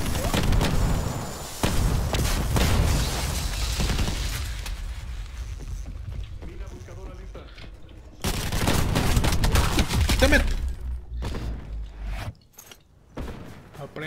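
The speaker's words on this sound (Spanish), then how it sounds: "Le metí unos buenos disparos." Rapid bursts of gunfire and booms in Call of Duty: Black Ops 4 multiplayer, dense volleys early and again midway with quieter gaps, loud and close, game voices mixed in.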